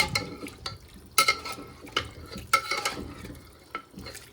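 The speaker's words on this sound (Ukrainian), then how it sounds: "Кружку розсола з огірків. Так, перемішаємо." Soup ingredients with cucumber brine stirred in an Afghan kazan, a few soft scraping stirs and light clinks amid a faint sizzle, close and quiet.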